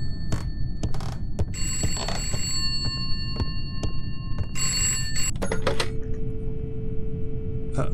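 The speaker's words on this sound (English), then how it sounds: "Phone's ringing" An old-fashioned telephone bell rings in short repeated bursts over a low droning hum in Contemp, an indie horror video game, ending with a lingering steady tone.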